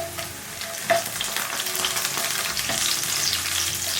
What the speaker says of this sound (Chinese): 重新起锅热油，把姜蒜放进来炒香。 接着放入干辣椒